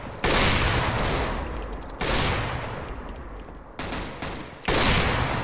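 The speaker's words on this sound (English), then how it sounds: "No, you need to sit still when shooting!" Gunfire in a video game: loud, dense bursts of rapid shots come in several long volleys, separated by brief silent breaks.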